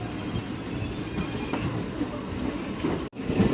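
A train pulls away on the way to Arunachalam, a steady low rumble of rolling stock with faint rail clatter running throughout, close and continuous, briefly dropping out near the end before resuming.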